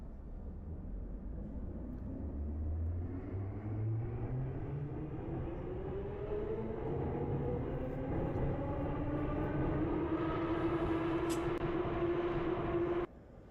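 Russian metro train in the Metro Simulator 2 video game, a steady loud rumble with a motor whine rising in pitch as the train accelerates, continuous until an abrupt stop near the end.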